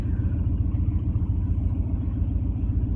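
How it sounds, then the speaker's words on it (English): A farm truck's engine rumbling as it is driven a short way, a low, steady, heavy drone heard up close from inside, with no talking. "I've been given the job of moving my husband's farm truck out of the way"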